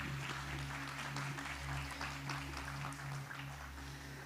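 A church congregation gives a round of applause, a steady patter of clapping heard alongside a low, constant electrical hum.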